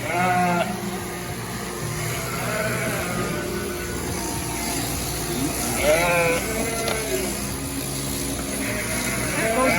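Sheep being held for shearing bleat several times amid a steady background hum, with calls rising and falling at intervals; a voice is faintly present.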